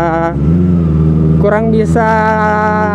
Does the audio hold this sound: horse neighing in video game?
no